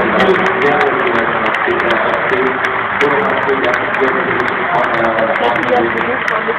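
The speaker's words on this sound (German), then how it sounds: "Und da sind es die Jubel" Dense, steady crowd cheering and applause filling an esports arena during a Mousesports vs. Alternate Attax match at the ESL Finals, loud and continuous, with a commentator talking over it.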